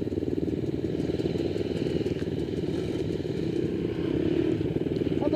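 A trail motorcycle idles steadily close by, its engine putting out a rapid, even, chugging rattle throughout with no talk.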